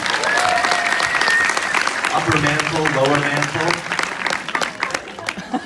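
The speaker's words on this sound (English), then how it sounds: "I think we should all give her an applause" Audience applause at a film Q&A in Chicago, steady dense clapping throughout with a voice talking over it partway.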